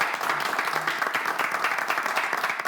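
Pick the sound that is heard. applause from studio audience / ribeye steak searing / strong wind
applause from studio audience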